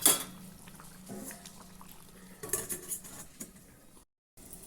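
Lid of a mutton biryani pot with potatoes inside being handled, a clink of metal at the start followed by scraping and clattering of pot and utensil, then a brief silence and soft noise.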